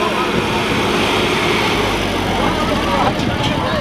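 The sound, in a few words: tractor engine pulling back trolley in competition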